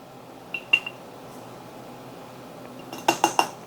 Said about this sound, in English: I put 4 tablespoons of coffee